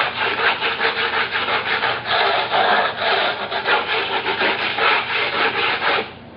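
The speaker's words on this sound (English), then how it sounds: "a big 12 or 14-inch floor scraper, regular scraper, and you're going to go through and just scrape it" A big 12- or 14-inch floor scraper drags steadily across a floor, knocking down a stippled paint coating with a loud, continuous gritty rasp in repeated strokes before stopping at the end.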